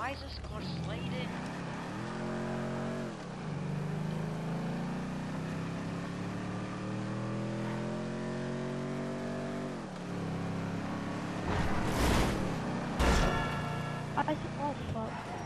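Car engine in the video game GTA V on Xbox 360, revving with rising and falling pitch as the car slides, then a couple of harsh bursts near the end, with a player talking over it.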